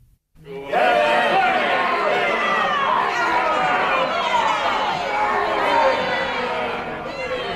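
A hostile courtroom crowd chatters and murmurs in a dense, loud babble of many voices, starting abruptly after a brief silence and holding steady throughout, part of a dramatized murder-trial scene.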